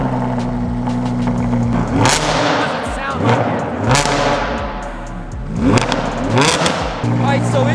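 Subaru STI engine revving loudly at a car event, repeated rising and falling revs with a rough steady idle between them, close and dominant, with people talking in the background.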